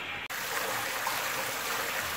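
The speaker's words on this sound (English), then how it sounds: "It's about time flush out the tank." Water gushes out of a water heater tank during a flush, a steady close rushing hiss that cuts out briefly near the start and then runs on evenly without talk.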